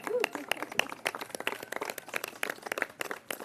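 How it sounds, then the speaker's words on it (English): An audience claps at a press announcement about car-free parks, giving a short burst of scattered, uneven hand claps with no voice over it. "Now you can clap."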